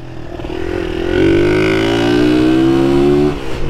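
A Honda Fan 125 motorcycle with a clutch needing repair runs close by, its engine note climbing into a sustained rev before dropping back near the end, with no speech over it.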